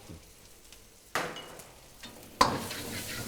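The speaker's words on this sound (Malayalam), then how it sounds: "ഇത് മസാല ഒന്ന് പിടിക്കാൻ വേണ്ടിയിട്ട് ഒന്ന് ഫ്രൈ ചെയ്യും" Vegetables fry in masala in a pan with stirring, two sharp scraping bursts over a soft steady sizzle; no voices.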